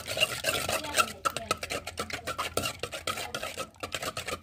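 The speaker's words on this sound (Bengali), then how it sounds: "এখন এটাকে ভালো করে মিক্স করে নিই" A spoon is worked briskly through cake or pitha batter with egg and salt in a home kitchen bowl, giving a close, rhythmic run of scraping and clinking strokes.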